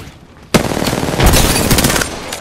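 Rapid automatic gunfire in the shooter game Apex Legends, a sudden loud burst that starts abruptly and rattles on in fast repeated shots, with a heavier boom partway through, no talking.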